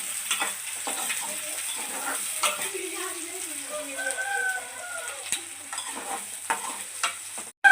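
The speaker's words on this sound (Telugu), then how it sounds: "ఆయిల్ అయితే వేడెక్కింది కదా ఇప్పుడు పచ్చిమిర్చి ఉల్లిపాయలు వేసుకోవాలి" Green chillies and chopped onions hit hot oil in a pan for a home-cooked curry, giving a soft, steady sizzle with light stirring scrapes, quiet and close, and birds chirping faintly in the background.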